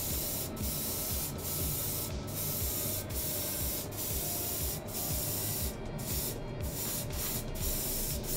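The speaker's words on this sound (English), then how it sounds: "Alright, so now I'm going to airbrush this" Airbrush spraying coats of black paint onto a 3D-printed part, a steady close hiss that runs without break, with faint rhythmic ticks and brief pauses in the spray.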